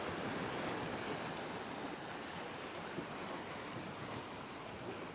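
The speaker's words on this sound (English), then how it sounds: "Oh, the water's been splashing up there." Continuous rushing wash of sea water against the harbour wall at Paphos, a broad steady hiss and churn, moderately distant, without voices.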